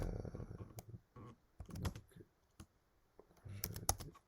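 Quiet, irregular clicking of a computer keyboard as someone types Python code, short bursts of keystrokes separated by brief pauses.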